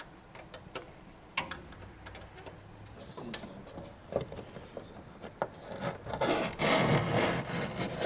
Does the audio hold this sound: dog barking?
no